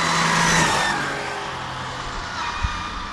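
FG SBR 2.0 chassis RC car accelerating: a high-pitched motor whine rising and then fading as it moves away, ending with a short knock, with no talk.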